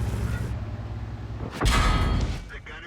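A heavy boom of a tank shell striking, loud and close, rising out of steady engine rumble and game noise in World of Tanks, playing the Super Conqueror.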